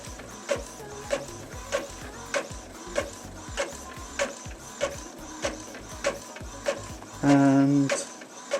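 An Epson EcoTank 2814 printer prints a test page, giving a regular series of mechanical clicks and whirs about every half second, ending in a louder motor whine.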